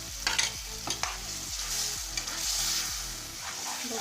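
A potato mixture for pav bhaji gets stirred in a hot pan, a spoon scraping in repeated rhythmic strokes over a constant close sizzle of frying, with no talking.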